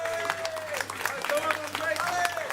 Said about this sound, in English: Okay, big round of applause for Dre.